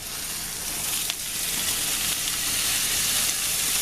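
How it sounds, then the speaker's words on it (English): Beef frying in a skillet over medium heat gives a broad, steady hiss and crackle that swells a little after the meat goes in, close and continuous with no voices over it. "in the same skillet, we are going to cook the beef"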